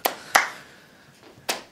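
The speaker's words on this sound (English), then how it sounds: "I'll clap" A single person clapping three times at an empty live student show, sharp isolated claps with a pause before the last, fairly close and alone without talk.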